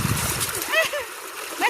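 Water splashes and splatters in a farm irrigation channel running between rose and jasmine plants, a few close bursts over a couple of seconds with a voice over them.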